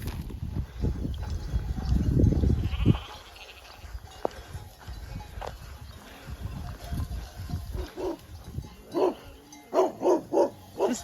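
A herding dog barks among a flock of sheep or goats on a rural trail along the Camino Sanabrés in Spain, with bleating and shuffling earlier, then a run of close, rhythmic barks toward the end.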